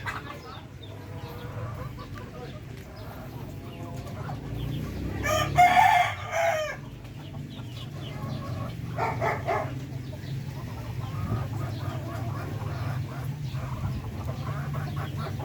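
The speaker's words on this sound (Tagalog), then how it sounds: "pinagkaguluhan na naman ang ating mga bibi at saka manok mga nasa labas" Chickens and ducks cluck and a rooster crows loudly in the middle, with other fowl calls and faint human voices in the background, as the birds eat outdoors.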